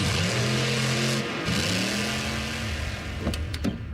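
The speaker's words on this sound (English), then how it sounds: "You can even stream it at a monster truck rally." A heavy monster truck engine rumbles and revs loudly up close at a rally, its pitch rising and falling, with a couple of sharp clanks near the end.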